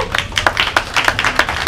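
Street-concert crowd in the Stara Praga district of Warsaw clapping for the city, a dense patter of many hands with sharp individual claps standing out, fairly close and steady for the whole stretch.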